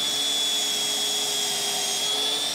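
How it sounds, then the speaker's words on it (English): Power drill whirring steadily as it drives screws through a stair riser into a tread during a stair installation, a high, continuous motor whine held close and unbroken, with no talking. "So just using the drill here, trying to stay at the proper height."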